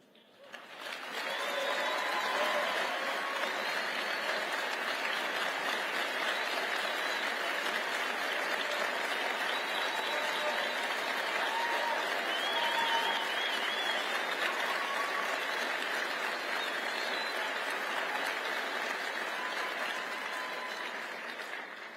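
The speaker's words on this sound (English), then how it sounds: "so proud and happy to be sitting up here seeing you all stand up and cheer for these detransitioners" An audience at a conference panel stands and applauds, a dense, sustained wall of clapping and cheering that holds steady for about twenty seconds before tapering slightly.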